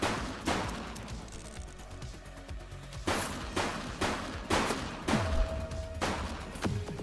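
Gunfire in the police video game The Precinct: several loud, sharp bursts at about half a second, three seconds and five seconds, with quieter shots between them. A faint radio-like tone sits underneath, and no one talks.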